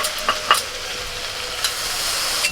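Potatoes and spring onions frying in a pan (kadai) in a rustic home kitchen hiss steadily as a small splash of water is added, with a broad continuous sizzle and a few sharp clinks of utensils.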